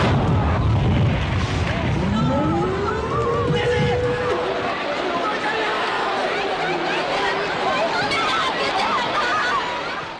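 A deep, rumbling explosion at a mine in the film Usugesho booms loudly at the start, followed by a lingering roar and crowd chatter with voices over it.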